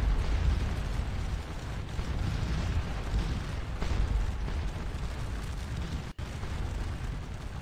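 Continuous heavy booming rumble from an artillery gun battery firing in the Napoleonic battle game Scourge of War Waterloo, a dense low roar of overlapping cannon reports with a brief dropout near the end, no voices.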